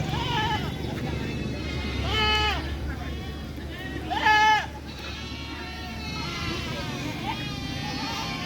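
Local deshi goats bleat repeatedly at the Baneshwar livestock market in Puthia, Rajshahi, Bangladesh, with several loud, wavering calls standing out over constant crowd chatter and nearby talking.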